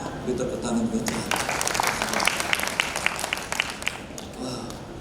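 A church congregation at a senior community service claps and applauds steadily for several seconds, a dense mid-loud burst of hand claps that swells in the middle and tapers toward the end.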